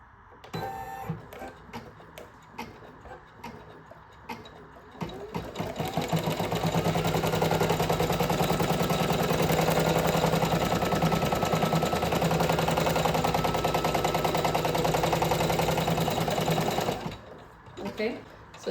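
An embroidery machine sews a placement stitch on fabric, a fast, loud, close rhythmic clatter running steadily for about ten seconds, with a few scattered clicks before it starts and after it ends.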